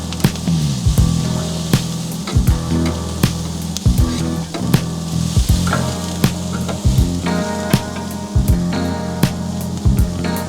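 Finely cut garlic fries in a pan with a loud, continuous close sizzle, punctuated by repeated clanks and scrapes of stirring against the pan.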